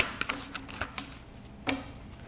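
Tarot cards being shuffled by hand, a short run of soft papery riffles and taps, close and quiet, with a louder snap near the end and no talking.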